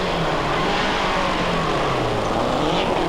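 A Lancia rally car driving hard on the Boucles de Spa rally, a loud continuous engine roar with road and wind noise filling the whole stretch and no clear break.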